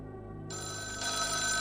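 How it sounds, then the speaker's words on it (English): A telephone rings in a spooky horror video game set at a late-night crisis hotline, a loud electronic bell tone that starts abruptly and holds steady without talk. "Moments later, the phone starts to ring."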